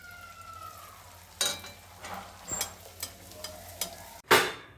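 Food frying in a home kitchen for a Bengali dinner, likely luchi, gives a steady low sizzle broken by several scraping stirs and clatters and one loud clank near the end. There is no speech.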